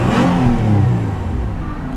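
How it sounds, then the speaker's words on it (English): A 2011 Nissan Altima Coupe 3.5SR's 3.5-liter VQ-series V6 engine, nearly 300 horsepower, revs loudly up close, a strong throaty rumble that rises and then eases off. "I absolutely love the sound of that engine, especially when it gets going."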